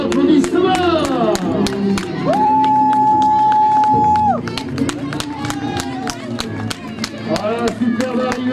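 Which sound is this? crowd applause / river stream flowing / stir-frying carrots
crowd applause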